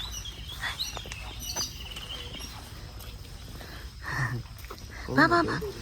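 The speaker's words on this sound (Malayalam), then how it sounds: "എവിടേക്കോ കിളികളുടെ കളകളാരവും കേൾക്കുന്നുണ്ട്." Scattered bird chirps and calls along a forest nature walk near Bandipur, with a steady insect drone underneath and a louder burst of chirping near the end.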